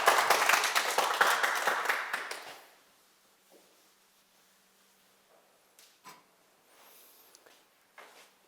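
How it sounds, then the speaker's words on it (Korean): Audience applause at a talk, a dense burst of many hands clapping for about two seconds that quickly fades to near silence, followed by a few faint scattered knocks. "네, 아유 크게 박수 한번 주세요"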